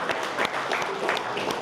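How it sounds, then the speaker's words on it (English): An audience claps steadily at a Christmas presentation, a continuous patter of many hands at moderate loudness with scattered sharper claps throughout. "So give yourselves a round of applause"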